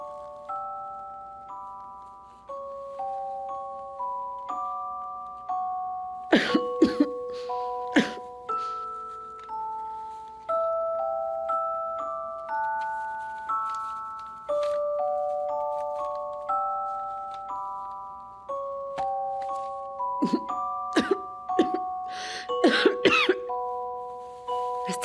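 A few sharp coughs in two clusters over a soft melodic music background, no talking.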